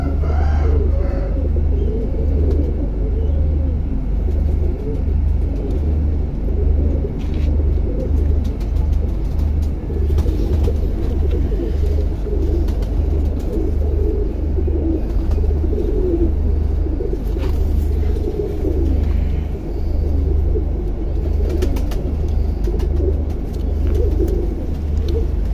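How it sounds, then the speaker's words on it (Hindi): A male jaldar pigeon coos repeatedly over a heavy, constant low rumble, with soft throaty calls that carry on steadily throughout. "मिसा जालदार कबूतर है ये"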